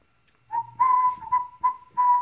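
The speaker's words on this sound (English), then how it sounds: "Starting to learn to alert to the whistle." A series of short, clear whistle blasts, five bursts in quick succession near the microphone, used to call Airedale Terrier puppies, with quiet background otherwise.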